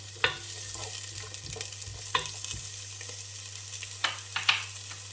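Onions fry in a pan at the start of a ginger, carrot and coriander soup, giving a soft, steady sizzle under a low hum, broken by a few scraping stirs and light clinks of the utensil.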